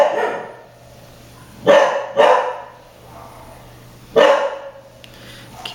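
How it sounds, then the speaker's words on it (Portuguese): A dog barks indoors at home, three sharp barks in two quick bursts followed by a single bark, loud and close with no talking. "vai ser mais fácil escutar os latidos do Bob"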